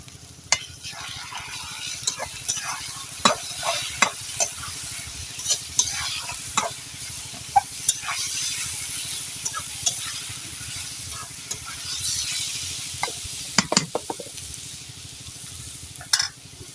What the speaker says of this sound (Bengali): আমার ভাজিটা হয়ে গেছে উচ্ছে ভাজি তুলে ফেলবো